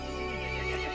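One horse in the horror game Resident Evil Village neighs loudly and close, a sustained whinny that lasts the full second.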